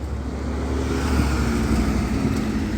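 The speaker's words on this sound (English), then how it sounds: "It's fixing to get loud. Here comes the truck." A truck passes close by outdoors, a steady loud engine rumble with a low drone holding throughout, rising slightly near the middle as it goes past.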